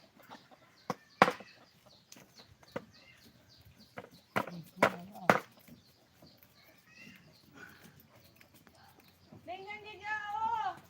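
Chickens cluck close by in a yard, with scattered short clucks and one longer, drawn-out call near the end, mixed with sharp knocks and clatter while people talk.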